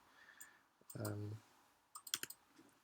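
Quiet computer keyboard clicks as a Control or Command T shortcut is pressed while editing digital art, a brief low thump followed by a quick cluster of sharp clicks, close and faint.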